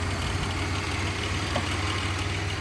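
A Pontiac Grand Prix 3800 V6 engine idles steadily up close, a low rumble with a constant mechanical whine riding on top.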